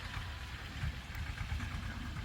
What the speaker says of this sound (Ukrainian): Так, їде воно тракторець.